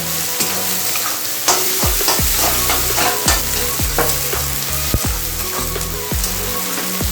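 Red chilli fries in oil over softened tomatoes, a loud close sizzle with rhythmic scraping stir strokes against the pan recurring about every second, no voices present.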